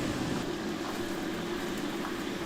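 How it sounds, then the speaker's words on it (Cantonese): Continuous hissing, crackling sizzle of food frying in hot oil, steady and close throughout. "落油鑊炸香"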